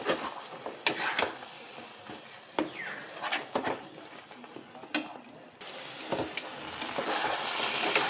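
Fresh coriander leaves are dry-fried in a pan: a low, quiet sizzle runs under repeated clacks and scrapes of a spatula stirring against the metal, with the crackle building toward the end.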